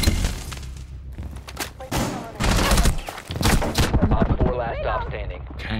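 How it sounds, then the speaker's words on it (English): Gunfire in the tactical shooter game Rainbow Six Siege, loud dense bursts of shots and impacts running through the whole stretch, with voices talking over the action. "Why'd you shoot your teammate?"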